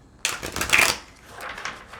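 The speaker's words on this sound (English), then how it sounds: "Let's see if there's going to be any repeats coming from this deck. Okay, so quick shuffle." Quick shuffle of a deck of tarot cards, a burst of crisp riffling and papery rustle that starts abruptly, swells, then tapers into softer shuffling, close and with no talk.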